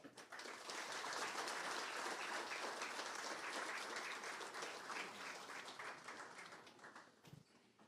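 Large audience applause at an export awards ceremony welcoming Tamil Nadu Chief Minister M.K. Stalin, dense sustained clapping that swells quickly, holds for several seconds and then tapers off.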